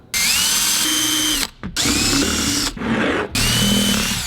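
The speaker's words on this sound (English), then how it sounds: "It won't let it slide in there, so drill it out." A power drill drills out screws on an electric car's power distribution box, whirring loudly in three long bursts with brief pauses between, the motor pitch steady and close by.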